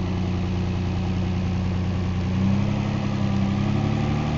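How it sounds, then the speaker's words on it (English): A 2001 Chevrolet Malibu engine idles steadily, a constant mid-low hum with no voices, rising slightly in level partway through. "It seems to idle good."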